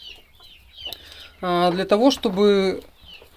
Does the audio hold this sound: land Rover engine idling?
no